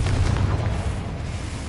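A Confringo fire spell blasts in a Harry Potter video game, a loud, low rumbling boom that fills the clip and holds steady to the end.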